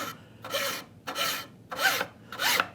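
A hand file rasps across a brass hinge in four even, deliberate strokes, each a bright scraping burst separated by short pauses, close and clear with no talking.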